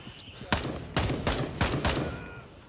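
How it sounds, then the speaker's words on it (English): Gunfire in Gray Zone Warfare, five sharp, loud shots fired in quick succession, each ringing out briefly over a low jungle ambience. "He's shooting the trees near me."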